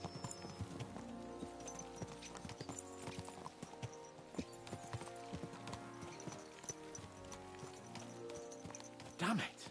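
Horse hooves clip-clopping at a steady riding pace in Kingdom Come Deliverance 2, quiet and rhythmic through the whole stretch, with a voice talking over the hoofbeats and a brief louder burst near the end.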